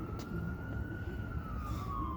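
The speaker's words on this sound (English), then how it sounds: "Hey, that's the ambulance right there." An ambulance siren wails from a distance, a thin steady tone that slowly rises and falls over continuous low traffic rumble, with no voices.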